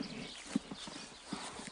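Horse hooves clip-clop in an irregular walking rhythm, a few sharp knocks standing out over a soft background with no speech.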